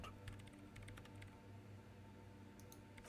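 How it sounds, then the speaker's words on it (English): Soft, rapid keystrokes on a computer keyboard from the Disco Elysium video game, a quiet burst of clicks over a steady low hum, with no talking. "She has already turned back to her keyboard."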